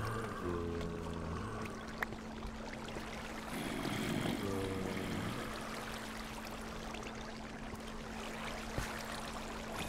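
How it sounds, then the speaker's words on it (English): Continuous rush of flowing Minecraft water from a source block, a fairly quiet, even hiss with soft low tonal swells and a couple of isolated clicks. "that's where the water stops."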